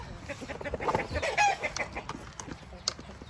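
Native chickens cluck in short, scattered calls at close range, with other birdsong and faint background noise around them.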